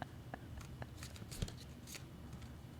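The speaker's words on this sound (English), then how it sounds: "Shuffle away, dealer." A deck of oracle cards being shuffled by hand, giving quiet, papery riffles and flicks in short irregular bursts over a soft background hum, with no talking.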